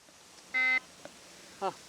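A fishing bite alarm beeps once, steady for about a quarter second, followed by a shorter chirp; quiet background, no talking.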